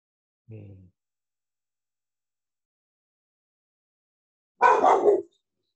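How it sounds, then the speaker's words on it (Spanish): A pet dog indoors gives a short, soft yelp, then after several seconds of silence lets out one loud, close bark burst. "Ese es mi perro que está peleando con la gente."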